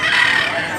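A gamecock rooster crows once, loud and close, a single short, bright call with no voices over it.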